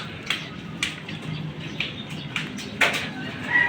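Pigeons at a breeder's loft beat their wings in short bursts, a series of soft, quick flutters spaced through the stretch, with one sharper clap of wings near the end as a bird takes off, moderately close.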